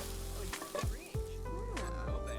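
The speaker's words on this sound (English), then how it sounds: "And stir again with your spatula." A spatula stirs sizzling olive oil and pepper flakes in a pan, a steady close crackle broken by a few scraping strokes, with no talking.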